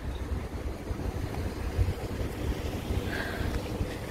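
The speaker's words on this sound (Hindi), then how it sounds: "छाँव में चलो और ठंडी हवा चल रही है" Cool breeze blowing outdoors in Dubai in early summer, a steady low rumbling wind buffeting the microphone throughout with no voices.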